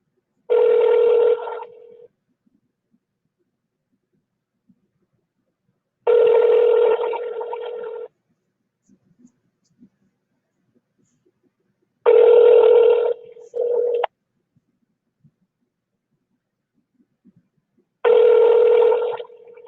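A telephone call rings out in four evenly spaced, loud, tonal bursts separated by long silences, the third followed by a short extra blip, with nobody talking.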